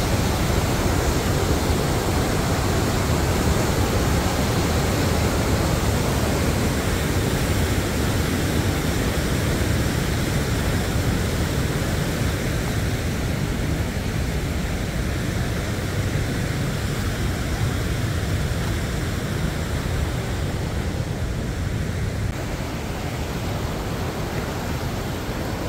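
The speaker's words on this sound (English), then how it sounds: "Tuolumne Falls. This is the lower part of it." Lower part of Tuolumne Falls, a roughly 50-foot waterfall in Yosemite's Sierra Nevada, roaring as a steady, dense rush of falling water that stays loud and unbroken throughout.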